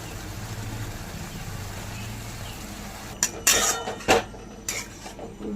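Prawn masala with chili powder cooking down in a pan with splashes of water, a low steady background hum giving way to sharp metallic clinks and scrapes of a utensil against the pan.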